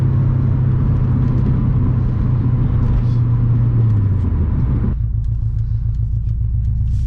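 A Subaru WRX STI turbo engine pulls hard under acceleration, a loud, steady low drone from inside the car whose pitch shifts partway, then settles into a pulsing rumble.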